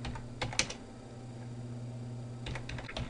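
Someone types on a computer keyboard in short bursts of quiet clicks separated by a long pause, over a steady low electrical hum.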